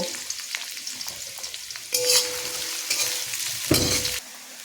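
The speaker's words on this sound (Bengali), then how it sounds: "পেঁয়াজগুলোকে এখানে দিয়ে সুন্দর করে আমি ভেজে নেব" Chopped onions, about two hundred grams, frying in a wok for a mutton dish, a loud continuous sizzle with stirring scrapes that swells sharply midway as the pan is worked, with no talking.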